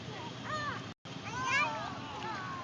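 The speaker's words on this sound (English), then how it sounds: "here's a whole bunch of seagulls who loves French fries" A flock of seagulls calls repeatedly along the waterfront at Canal Park, with harsh overlapping cries close by over steady background noise and a brief dropout partway through.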